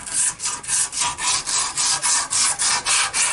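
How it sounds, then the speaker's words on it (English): Sandpaper rubbed by hand over wood for a tree house seat, a steady back-and-forth scratching in about a dozen even strokes, close and fairly loud with no talk. "you take this sandpaper and you can go like this"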